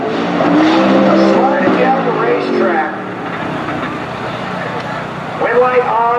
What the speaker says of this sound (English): Car sliding to a stop.